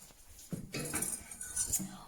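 Spoon scraping and clinking against a pot while béchamel sauce for fennel gratin is stirred on the stove, soft intermittent metallic scrapes close by, mixed with quiet talking.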